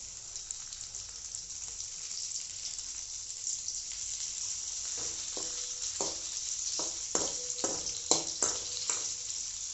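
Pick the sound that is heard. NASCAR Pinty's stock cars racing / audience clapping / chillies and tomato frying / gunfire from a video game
chillies and tomato frying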